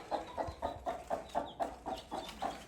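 A hen clucks in a steady rhythm of about ten short, evenly spaced clucks while leading her chicks on a walk, close by and fairly quiet, with no talking.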